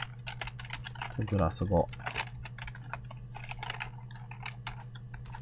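Computer keyboard keys click in quick, light taps during play of a video game, faint and steady, with someone speaking briefly in the middle.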